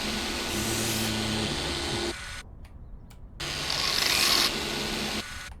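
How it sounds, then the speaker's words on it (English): An orbital sander works a car body in the video game Car Dealer Simulator, giving two loud, close bursts of steady gritty whirring separated by a short quieter pause. "Then we switch to our orbital sander."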